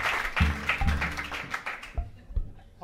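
Scattered live applause from a jazz club audience at a concert, a burst of clapping with a few sharp taps that thins out toward the end, moderately close.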